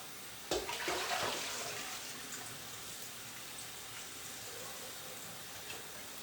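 Tap water runs from a kitchen faucet with a steady splashing hiss, starting abruptly near the beginning and continuing evenly to the end, fairly quiet and close.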